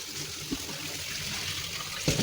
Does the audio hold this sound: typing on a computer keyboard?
no